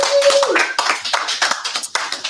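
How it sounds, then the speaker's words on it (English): A studio audience on a live Sunday evening TV show claps for a guest arriving at the red couch, a brief burst of close, uneven clapping. "Let's give him a round of applause."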